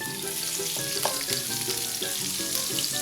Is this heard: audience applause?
no